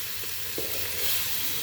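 Meat fries in hot oil, giving a steady, bright, hissing sizzle with a few soft stirring knocks. The sound carries on without a break through the short stretch, with no voices.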